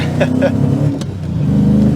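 The V8 engine swapped into an R34 Nissan Skyline gives a deep, loud, steady rumble from inside the moving car. The tone swells slightly as it is revved, and a voice speaks over it.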